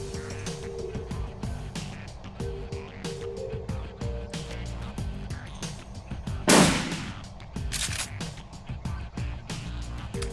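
Repeated gunshots crack through a firefight in the tactical game Shadowrun Returns, sharp bursts spread across the stretch over a steady game music bed, with one louder, fuller blast near the middle.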